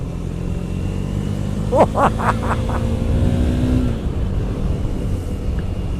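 Engine of a 2018 KTM 390 Duke single-cylinder motorcycle while riding, a steady drone with a brief rev rise midway and continuous wind rush, close and fairly loud.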